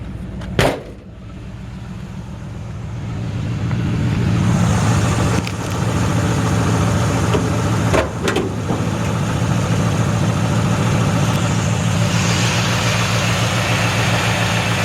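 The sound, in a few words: old truck engine idling, exhaust sound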